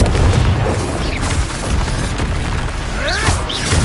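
A Confringo fire-blast spell from the Hogwarts Legacy video game goes off as a loud, dense explosive boom with rumbling low bursts, set in a noisy spell-combat scene with whooshing streaks near the end.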